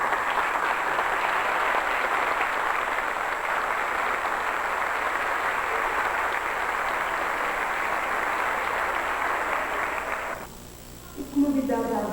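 An audience at a tribute to retired teachers applauds a retired music teacher with a long, dense, steady ovation lasting about ten seconds, which stops abruptly before a voice begins speaking.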